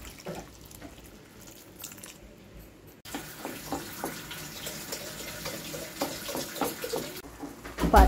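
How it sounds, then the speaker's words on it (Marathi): Half a cup of water poured into sesame pithle cooking in a pan, a steady pouring and splashing that grows louder partway through, close and alone with no talk. "आता याच्यात टाका अर्धा कप पाणी"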